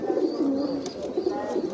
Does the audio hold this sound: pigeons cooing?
yes